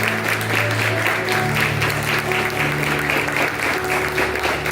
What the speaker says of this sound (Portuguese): Vamos receber o homem de Deus dando uma salva de palmas para o Senhor Jesus.